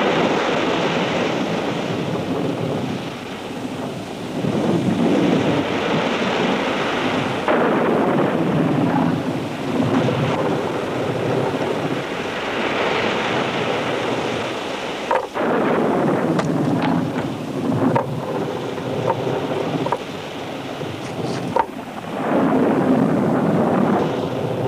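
A stormy sea in a cartoon island storm, with loud crashing waves and gusting wind forming a continuous roaring wash that surges and eases with heavy rumbling.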